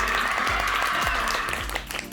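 A short burst of scattered applause, light and a little distant, fading out after about two seconds.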